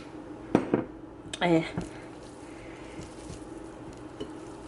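Chicken wings tossed with Parmesan in a bowl, two bright clinks of a utensil against the dish at close range, followed by quiet shuffling.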